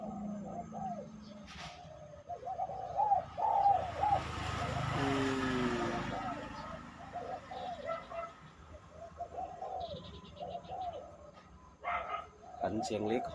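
Soft rhythmic spotted dove coos repeat throughout against outdoor background, with someone talking in Thai over them and a dog barking briefly.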